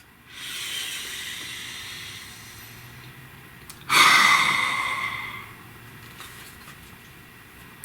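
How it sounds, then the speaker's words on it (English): A deep breath, taken close to the mic as a long airy inhale followed by a stronger sighing exhale, alone over quiet background noise. "Please take a nice deep breath."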